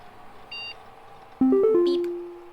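Electronic video game beeps in a Home Safety Hotline game: a faint short tone, then a loud sequence of rising tonal bleeps that settles into one sustained beep fading out.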